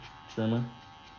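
An electric hair trimmer buzzes briefly during a barbershop haircut, a close, steady hum with strong harmonics lasting about a quarter second before fading under a quiet background.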